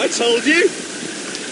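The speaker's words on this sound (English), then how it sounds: "It's raining." Steady, close hiss of rain falling, continuing on its own after a brief spoken remark at the start.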